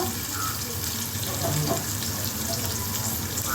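Curry leaves, slightly dried, dropped into hot oil give a steady close sizzle and crackle throughout, with faint water-like hiss and no talking.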